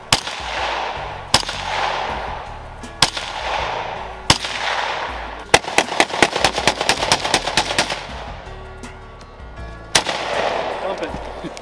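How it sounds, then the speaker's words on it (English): Bursts of rapid gunfire from a firearm being emptied in one continuous magazine dump, loud sharp cracks in a fast string around the middle, with scattered single shots before and after and some faint voices. "Do a mag dump."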